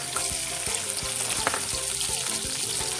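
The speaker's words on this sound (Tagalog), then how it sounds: "magigisa muna tayo ng bawang, sibuyas," Garlic and onion sauté in oil in a pan, a steady close sizzle with light stirring scrapes throughout, no voices.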